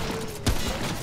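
A single gunshot in the video game Remnant: From the Ashes bursts out sharply over dense game noise.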